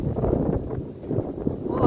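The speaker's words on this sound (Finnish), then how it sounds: "Tää tuuli!" Wind buffets the microphone outdoors in a garden, a steady low rumbling roar with gusty swells throughout.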